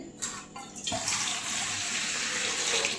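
Ice water being poured into a container while ghee is made from butter, a close, splashy gush that sputters at first and then settles into a steady, full stream with no talk.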